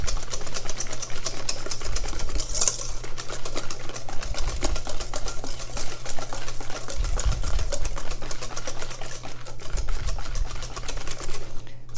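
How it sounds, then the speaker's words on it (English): A whisk beats pastry cream mixture in a bowl, a steady rapid clicking and scraping that runs continuously and loud, close by, with no voices. "you're going to continue whisking this until what we call a ribbon is formed"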